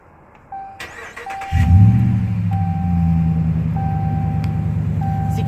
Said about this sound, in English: I'm just gonna start it up so you can actually hear it.